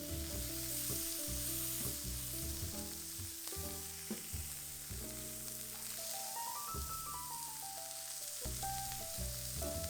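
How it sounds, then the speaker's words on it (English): A beef patty fries in a hot pan for an egg McMuffin, a steady sizzle running underneath louder background music throughout. "fry for about 2 minutes per side"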